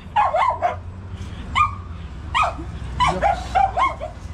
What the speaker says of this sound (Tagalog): Maingay ng aso.